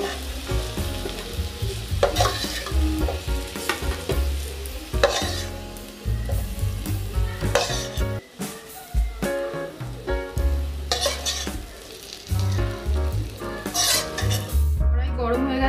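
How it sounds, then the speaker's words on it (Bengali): Okra (bhindi) fries in a pan and is stirred, a loud continuous sizzle broken by repeated scraping and clinking of a spatula against the metal, with short pauses. "ভেন্ডিগুলি আমার ভাজা ভাজা হয়ে গেছে,"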